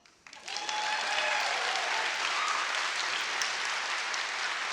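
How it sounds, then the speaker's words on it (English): An audience in the historic Coolidge Auditorium breaks into applause after a brief quiet moment, the clapping swelling quickly and holding at a steady, full level with a few faint voices in the crowd. "You can clap."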